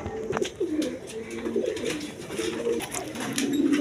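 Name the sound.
Giribaz pigeons cooing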